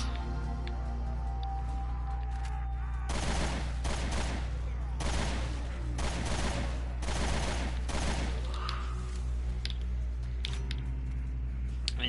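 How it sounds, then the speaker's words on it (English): Rapid automatic gunfire in Resident Evil: Revelations 2 Raid Mode, set in a snowstorm defense level, comes in several separate bursts over a steady background hum, with pauses between volleys. "shooting these guys as they pop up"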